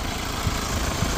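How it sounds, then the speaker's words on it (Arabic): Engine of a 2016 Hyundai Santa Fe with automatic transmission idling, a steady low rumbling hum with faint irregular knocks, heard up close and alone. "كيسمعوا صوت الموتور في الكاميرا"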